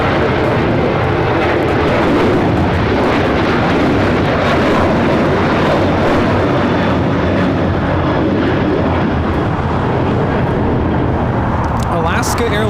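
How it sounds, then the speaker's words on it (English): An Alaska Airlines Boeing 737-800 takes off at LAX, bound for Seattle, with a loud, continuous jet roar that fills the whole stretch while people keep talking over it. "Alaska Airlines 1147 taking off to Seattle on the 737-800."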